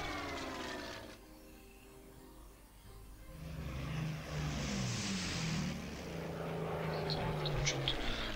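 Enemy bomber aircraft approach in the World War II strategy game Order of Battle, Battle of Britain, a droning propeller engine roar that swells after a brief lull and grows louder toward the end.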